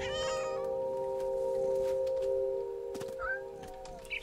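A cat meows in the video game What Remains of Edith Finch, a short, high cry near the start over a steady sustained tone, followed later by a soft thunk and faint further sounds.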